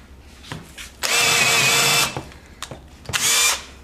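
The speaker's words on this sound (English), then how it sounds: "And then we drill a hole in one end or both ends?" A power drill whirs loudly in two bursts of about a second each while drilling a hole in a chair part for weaving, with brief handling knocks and clicks between them.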